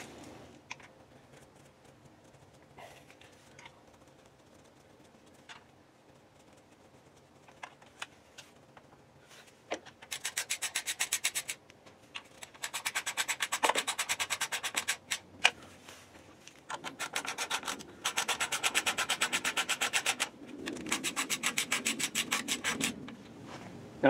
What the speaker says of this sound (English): I still have to put in the oil pan bolts.